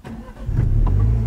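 A new car's engine cranks and starts, a low rumble rising about halfway through and then holding as a steady, loud idle close by.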